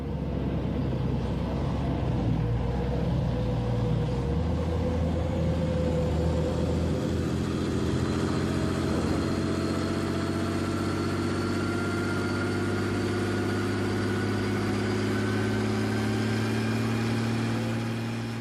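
Army tank engine running steadily, a deep low rumble with a faint higher whine, continuous and close for the whole stretch with no voices.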